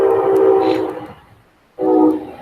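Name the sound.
Brightline train passing by in Miami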